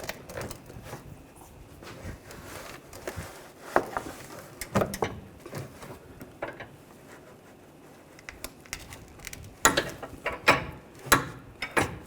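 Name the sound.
torque wrench tightening sway bar link on Nissan Juke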